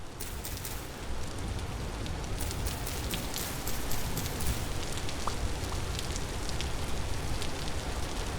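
Rain pours in the survival game Vintage Story on a dark, cold night, a thick, steady hiss of drops with scattered crackles and a low rumble underneath, continuous and close, with no speech.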